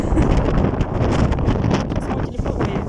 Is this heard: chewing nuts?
no